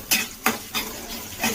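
Onions sizzle in a hot pan for mushroom biryani, with four distinct scrapes of a spoon stirring them at roughly even intervals over a steady low fry.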